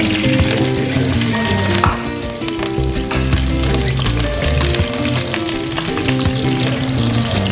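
Onion, garlic and ginger sauté in a hot pan for Bicol-style laing with coconut milk, a loud continuous close sizzle with occasional stirring scrapes and no talking.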